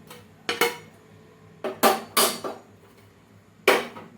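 Coconut pieces tossed into a pan for frying, giving several sharp clattering bursts of scraping and sizzling at irregular intervals, fairly close and loud with quiet gaps between.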